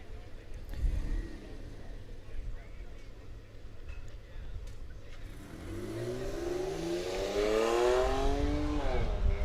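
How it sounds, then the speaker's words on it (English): A 2007 Porsche Cayman race car pulls away at a high-speed open-road racing event in Arnold, Nebraska, its engine climbing through rising revs from a distance into a louder roar, with a commentator talking over it. "Porsche sounds great as it takes off,"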